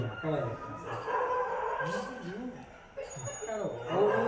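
A dog barks and yips repeatedly close by, mixed in with people talking over it.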